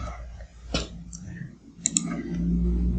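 A computer mouse gives a couple of sharp, close clicks, spaced apart, over a quiet room hum and faint background noise.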